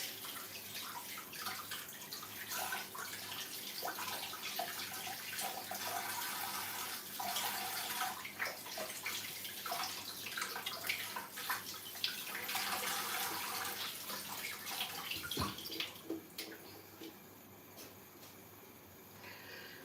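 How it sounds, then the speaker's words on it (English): Tap water runs steadily while hands are rinsed under it, giving a quiet, continuous splashing rush for most of the stretch before it tapers off near the end. "So I've just given my hands some bit of rinsing"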